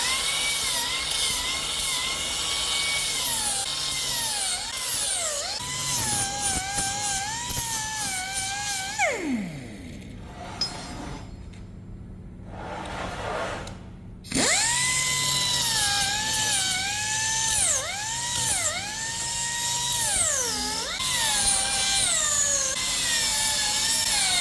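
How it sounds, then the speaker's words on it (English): Angle grinder cleaning up the laser-cut edges of 16mm mild steel plate, a loud whining grind that rises and falls in pitch as it bites, stopping briefly midway before spinning back up and continuing. "I just need to give the edges a quick clean up with the grinder."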